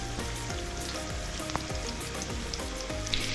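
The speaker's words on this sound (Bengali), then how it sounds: "এখন আমি একটা কড়াই নিয়ে নিয়েছি, কিছু পরিমাণ তেল দিয়ে পেঁয়াজ দিয়ে দিয়েছি।" Chopped onions fry in oil in a wok, a steady close sizzle and crackle that runs throughout with occasional stirring clinks and no talk.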